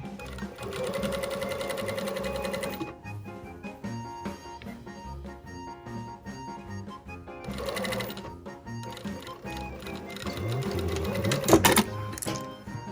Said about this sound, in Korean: 끝에 시작을 해서 여기까지 봉제를 했어요.